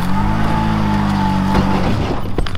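A quad bike (ATV) engine running close by as it is brought over, a loud steady droning motor with a held tone that shifts pitch as it moves, ending in rougher revving.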